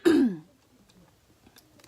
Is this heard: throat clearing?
yes